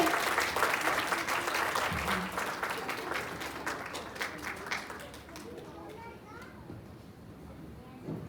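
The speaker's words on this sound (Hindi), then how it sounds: "प्लीज प्लीज नेगी साहब का स्वागत कीजिए तालियां बजा के।" Community festival audience in Japan clapping to welcome a singer, Negi Sahab, onstage, busy applause mixed with children's voices and crowd chatter that thins out and fades toward the end.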